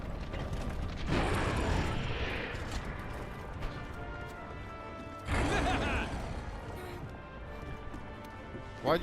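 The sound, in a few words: cannon being loaded in Monster Hunter World video game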